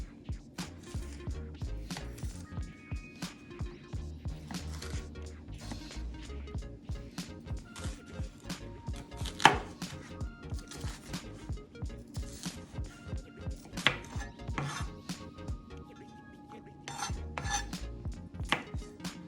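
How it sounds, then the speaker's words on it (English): Knife chopping vegetables on a cutting board during a community nutrition cooking class, a steady rapid series of close, crisp taps running throughout, with a few louder knocks and no talk. "we will chop these up nice and fine"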